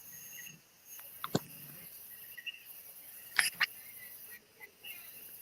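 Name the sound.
frogs croaking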